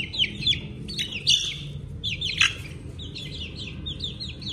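Chicks chirp in quick high peeping bursts, several overlapping calls at moderate distance over a low background rumble, no voices heard.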